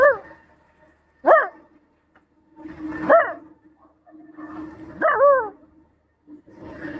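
A dog barks and yelps in short, separate bursts about every two seconds, with strained, whine-like pitch bends, fairly close against a quiet background with a low steady hum.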